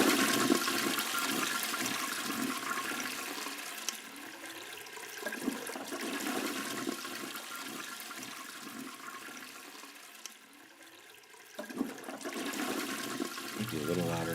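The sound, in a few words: toilet flush sound effect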